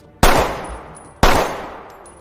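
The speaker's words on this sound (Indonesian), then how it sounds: "Ovi yang kebetulan memegang senjata langsung menembak Gaspar sehingga tewas" Two loud gunshots in a film scene, about a second apart, each a sharp blast trailing off into a long reverberant decay, with nothing else audible between them.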